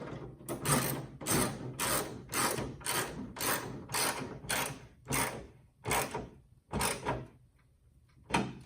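Nuts being tightened on a hood scoop during an install on a 2003 Toyota 4Runner, a rapid series of about a dozen ratchet-like clicking bursts in a steady rhythm, close and fairly loud.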